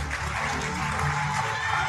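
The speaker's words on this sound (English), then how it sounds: "Huge round of applause for the police." Audience applause at a live stage event, dense steady clapping from a large crowd filling the whole stretch without a break.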